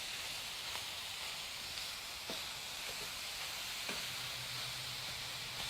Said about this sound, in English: the beef is browning